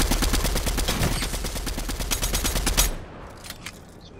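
Rapid automatic gunfire from a Fortnite match, a dense, loud stream of closely spaced shots lasting nearly three seconds before cutting off abruptly into quieter game ambience with a few faint distant pops.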